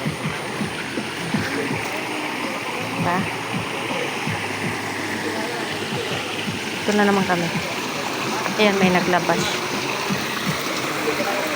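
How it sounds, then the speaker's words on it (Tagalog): A shallow creek flows in a steady, close rushing wash that continues throughout, while people talk over it at intervals. "Sapa pala, sapa. Hindi pala ilog guys."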